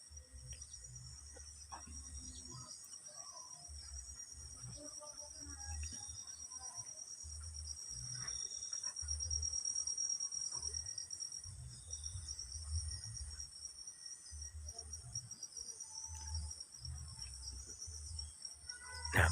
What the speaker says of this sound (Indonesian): tidak ada suara apapun ya, kecuali suara binatang-binatang seperti jangkrik,